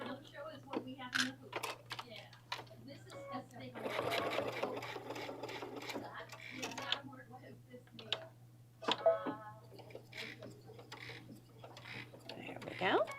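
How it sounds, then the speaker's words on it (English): A sewing machine stitches through a bag in short bursts with pauses, its rapid ticking clatter fairly quiet and close, with people talking intermittently alongside. "we're just stitching where the interfacing is at because that'll get us to that 1/2 inch"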